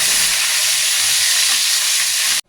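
Onion sautéing in a hot pan gives a steady, loud, close-up sizzle that holds evenly before cutting off abruptly, with no talking.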